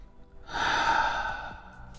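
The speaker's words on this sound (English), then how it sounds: "Take a big deep breath." A single long, deep breath drawn in and let out slowly, close and fairly loud, with a soft sighing exhale tailing off.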